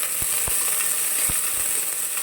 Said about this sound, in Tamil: இப்போ கட் பண்ணி வச்ச வெங்காயம், கருவேப்பிலை சேர்த்துக்கோங்க.